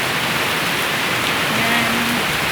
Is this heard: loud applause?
no